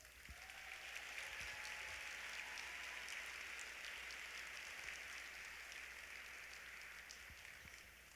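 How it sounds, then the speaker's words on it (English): Audience applause at a conference awards banquet, sustained broad clapping from a large room, distant and soft, steady throughout without speech. "Please give a round of applause."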